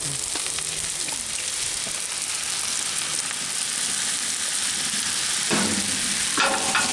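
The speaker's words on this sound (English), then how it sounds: "we're gonna add a little bit of soy sauce on here" Chicken fried rice with a splash of soy sauce sizzles on a hot griddle in a loud, steady hiss. A few scraping stirs come near the end, close up, with no voices.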